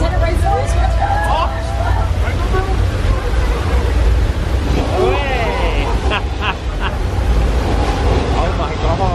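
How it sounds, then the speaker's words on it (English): Flash flood water effect rushing down a hill on the Universal Studios Hollywood tram tour, a loud, steady roar of surging water and wind with crowd chatter and exclamations over it. "Looks like we got too much water coming down the hill."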